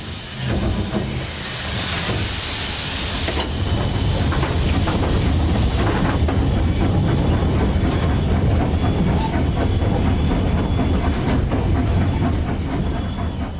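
An LMS Black Five steam locomotive heard from the footplate on a heritage railway in North Wales: a loud, continuous roar of exhaust, hissing steam and rattling wheels, with a brief burst of louder hiss near the start.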